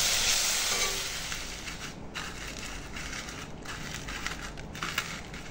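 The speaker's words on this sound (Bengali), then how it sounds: "শুকনো লঙ্কা ভাজা," Dried red chillies crackle and hiss in hot oil, a dense, loud frying sizzle that starts strongest and eases slightly, with occasional brief crackling pops close by.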